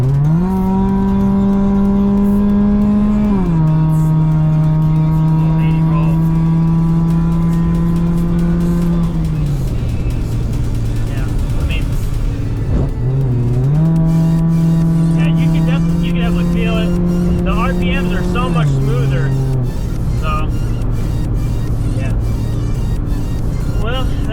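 A car fitted with a Mishimoto cold air intake accelerates hard through the gears, engine note rising in long sweeps, dropping at each shift and climbing again, loud and close from inside the cabin.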